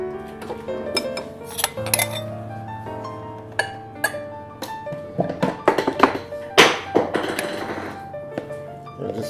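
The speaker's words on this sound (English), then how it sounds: "scoop these potatoes down in here" Creamy mashed potatoes scooped into a holiday baking dish, with a string of clinks, taps and dull thunks from the spoon against the dish, close and fairly quiet, and no talking.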